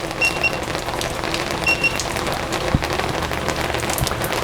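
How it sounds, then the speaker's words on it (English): Steady heavy rain pouring down around a drone, a dense continuous hiss with occasional louder drops, close and unbroken. "that rain's coming down."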